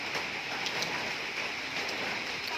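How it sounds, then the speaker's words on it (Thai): Light intermittent rain falls on a rice-planting field during overcast weather, a steady soft hiss of drops with faint patters, evenly spread and fairly quiet throughout. "ฝนตกแบบกระปิดกระปอยมาหน่อยหนึ่ง"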